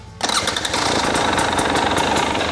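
A dirt bike engine fires up abruptly and settles straight into a loud, close, steady idle with a rough, buzzing texture.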